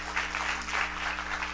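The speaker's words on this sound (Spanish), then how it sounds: "Démosle un aplauso al Señor" Soft, distant clapping from a church congregation, fairly even and continuous over a low steady hum.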